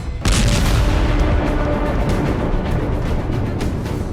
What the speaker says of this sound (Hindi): नॉर्थरोप ग्रुमन ने सेंटिनल ICBM के स्टेज 1 सॉलिड रॉकेट मोटर का full scale strategic test fire किया।